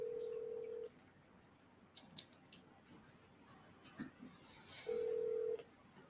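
Two long ringback tones of a cell phone call sound at the start and end, separated by quiet with faint clicks and rustle between.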